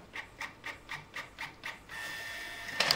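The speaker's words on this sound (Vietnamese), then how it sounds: "có thể nghe rõ ràng tiếng đầu phun mực di chuyển bên trong máy in" A Canon PIXMA G1020 inkjet printer prints. Its print head shuttles in about seven even, rhythmic strokes, then gives way to a continuous mechanical whir with a brief louder rattle at the end, close and alone.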